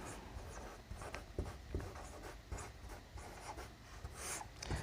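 A pen scratching numbers by hand on paper, heard as a continuous, close series of soft scratchy strokes and taps over quiet background hiss.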